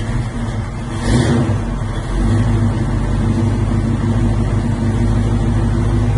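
A 1977 Chevrolet K5 Blazer with a 454 big-block V8 idles while still cold, a loud, close, steady low rumble with a slightly choppy, uneven beat and a brief rise in level partway through.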